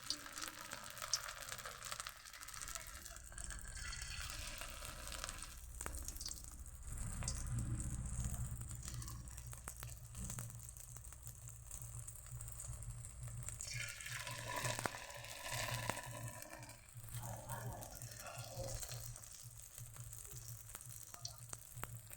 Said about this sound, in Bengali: লালচে করে ভাজা হয়ে গেছে